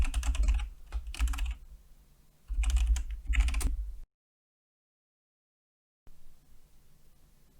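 Keys clatter on a computer keyboard as sign-up details are typed into an online form, coming in two quick bursts of rapid clicking, then a silent gap before a softer, quieter stretch.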